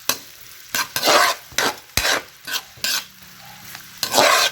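Vegetable fried rice sizzles in a pan as a spatula stirs and scrapes it in repeated bursts, close and fairly loud, with a soft frying hiss between strokes.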